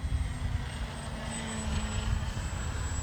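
Arrows RC Trekker radio-controlled model airplane flying overhead outdoors, a steady motor and propeller drone with a thin high whine, holding constant and swelling slightly as it passes close, with no talking.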